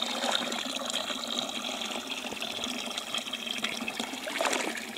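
Water trickles steadily into an outdoor spring basin through a damaged pipe, a continuous close splashing and dribbling with no voices.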